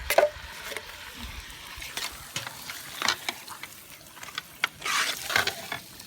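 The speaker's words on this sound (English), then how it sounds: "Give that a stir around." A curry stirred in a camp oven gives scraping and clunking stir strokes over a soft sizzle, with irregular louder knocks and a brief hissing burst near the end.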